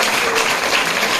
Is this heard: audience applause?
yes